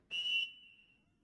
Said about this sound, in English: The whistle goes off